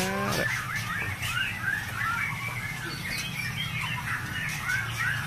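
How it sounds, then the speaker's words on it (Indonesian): Chirping and warbling bird calls from a bird near an aviary in South Tangerang, repeating steadily over a continuous background for the whole stretch, with no talking. "Apakah burung ini mau masuk ke aviarinya Kang Hendra yang ada di Tangerang Selatan?"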